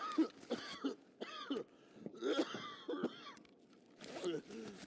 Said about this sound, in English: I don't know why my guy's coughing so much.